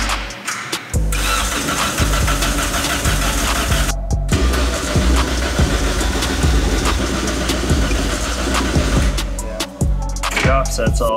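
A K-swapped Toyota FRS engine cranks repeatedly in a fast rhythmic churn, sputtering as it tries to catch, with a couple of brief pauses between attempts.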